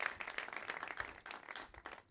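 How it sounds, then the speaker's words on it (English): An audience at an information panel claps for the panelists: a faint, steady patter of many hands, heard from a distance. "Can we give everybody a round of applause for being here?"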